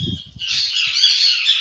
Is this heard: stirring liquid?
no